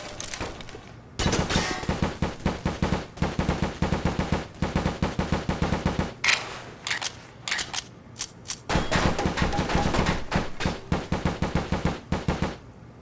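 Silenced gunshots from Left 4 Dead 2 come in rapid automatic bursts of muffled, punchy shots, loud and close, with short pauses between volleys and no voices.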